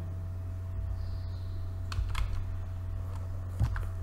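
Computer keyboard keys tapped while typing a command, a few soft separate clicks and a short cluster over a low steady hum, with no voices.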